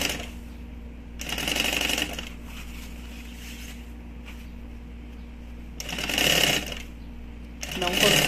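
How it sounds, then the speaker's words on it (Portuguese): Sewing machine stitching the fabric lining of a double toiletry bag, running in three short bursts of rapid mechanical whirring with quieter pauses between, close and steady under a low background hum. "Então, aqui o forro, eu vou costurar aqui na pontinha."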